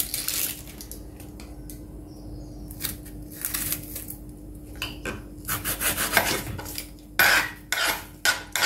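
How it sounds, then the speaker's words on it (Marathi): A knife slices through an onion for a chicken curry, giving irregular scraping and chopping strokes on a board, close and fairly quiet over a faint steady hum. "चला तर आता कांदा जो आहे तो कापून घेते।"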